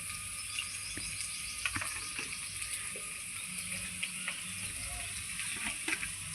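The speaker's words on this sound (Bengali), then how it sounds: "এই লবণ হলুদ দিয়ে আলুটা সজনাটা আমি একটু ভেজে নেব" Potatoes and drumstick pieces fry in a pan with salt and turmeric, giving a steady close-up sizzle with faint crackles and light clinks, no talking.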